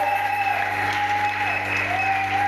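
Audience applause at a church convention for mothers and couples, a continuous wash of clapping from a crowd, steady and sustained, with a sustained tone ringing through it.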